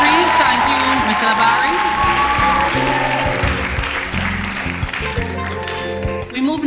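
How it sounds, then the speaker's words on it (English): Sustained applause from an audience at a secondary schools' drama festival closing ceremony in a hall, steady dense clapping throughout with a few cheers and a voice talking over it. "Let's applaud the efforts of all our countries"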